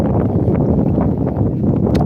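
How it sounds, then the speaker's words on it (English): Wind buffets a microphone on the coast at Withernsea, a low, rumbling gusty roar that stays loud and close for the whole moment, with no voices. "It's still windy."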